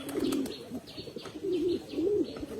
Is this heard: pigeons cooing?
yes